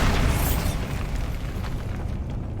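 The Bombarda explosion spell goes off in the video game Hogwarts Legacy: a dull, rumbling boom with a short burst at the start that fades into a lingering low roar.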